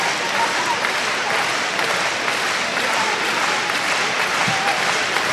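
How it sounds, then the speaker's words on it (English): Spectators cheer and applaud steadily throughout a women's world championship handball match between Tunisia and Hungary in Denmark, a dense, continuous roar of the arena crowd, with commentary speech running over it. "The crowd cheering them home"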